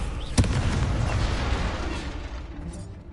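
Incendio fire spell cast in Hogwarts Legacy, a single sharp burst at the start followed by a sustained loud roaring rumble that slowly fades.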